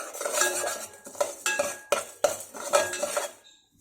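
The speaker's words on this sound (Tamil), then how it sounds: "சும்மா ஒரு டேபிள் ஸ்பூன் பாசிப்பருப்பை வந்து வறுத்து எடுத்துக்க போகிறேன்." Moong dal dry-roasting in a pan, a spoon stirring and clattering against the metal in a steady rhythm of about eight distinct scrapes, close and clear with no voices.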